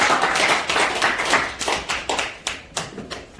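An audience claps at a Korean church gathering, with a ragged burst of hand claps that thins into separate, spaced claps fading toward the end.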